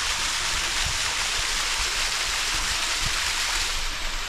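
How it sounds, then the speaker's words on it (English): A small stream flows in the Ozark National Forest, a steady broadband rush of running water, close and continuous for the whole stretch with no talking. "And look at this little stream."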